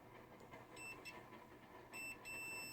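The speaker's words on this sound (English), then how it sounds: "so I get good connection and continuity, my meter is gonna beep and let me know" A continuity meter beeps during an electrical maintenance check, giving clear high-pitched tones in short bursts that stop and start over a quiet background.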